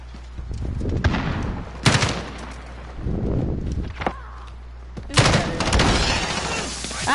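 Call of Duty gunfire in repeated bursts, loud and close, with in-game footsteps and ambient noise between them.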